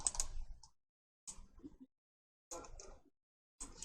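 Keys on a computer keyboard are pressed in short separate bursts of quick clicks with silent gaps between them, close and fairly quiet, with no talking.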